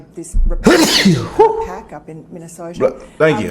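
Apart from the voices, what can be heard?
sneeze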